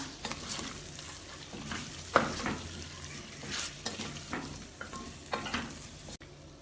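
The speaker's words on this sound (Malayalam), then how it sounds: "ഇതെല്ലാം കൂടി ഇളക്കി മിക്സ് ചെയ്യാം" Chicken biryani ingredients, chicken with chopped coriander and mint, are stirred in a sizzling pan. A steady fry hiss runs underneath irregular scraping strokes of the spoon, with no talking.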